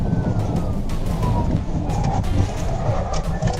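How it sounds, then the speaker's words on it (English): A police siren wails in gliding tones through loud, rushing road noise, the sweeping pitch clearly audible from start to finish. "the officer activated his lights and siren"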